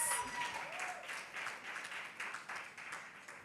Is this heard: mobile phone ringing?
no